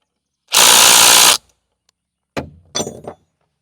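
A DeWalt cordless impact driver hammers at a clutch bolt on a Bush Hog 286 rotary cutter, one loud rapid burst of under a second, then a few shorter scraping knocks.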